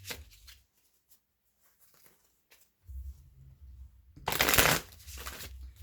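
Gilded Tarot cards are shuffled in a few soft riffling bursts, close and quiet, ending in one louder brisk flurry.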